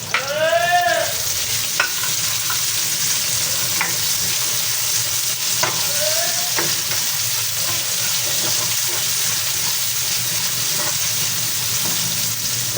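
Chopped onions sizzling and being stirred in a pan for chicken pochero, a loud, steady frying hiss with spatula scrapes and a few chirps from outside in the background, with no one talking.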